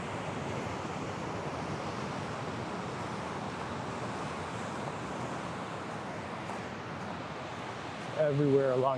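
Surf rolls in steadily on the beach at Jaco, Costa Rica, a constant broad wash with wind noise over it, and a voice cuts in briefly at the very end.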